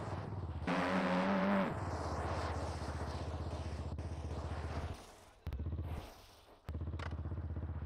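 Motorcycle engine in a racing video game, the rider pumping brake and throttle over and over on a downhill, a loud buzzing engine note that rises and dips in repeated surges.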